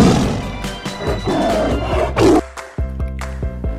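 A toy tiger gives a loud, growling roar over a busy background of children's toy sounds and music, the roar rising and falling before a sudden break.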